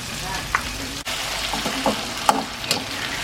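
Ginger, garlic, onion, tomato and buro (fermented rice) are sautéed in a pan, giving a steady close sizzle with brief clinks and stirring bumps.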